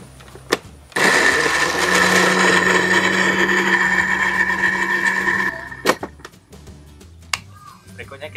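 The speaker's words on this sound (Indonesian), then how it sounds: "perlu kita haluskan aja dengan blender." A kitchen blender purées onion, ginger and garlic for a kimchi paste, a loud steady whirring grind that runs for about four and a half seconds before cutting off, with soft handling clatter before and after.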